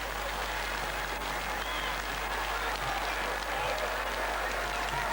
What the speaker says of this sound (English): A big crowd here to cheer them onto the field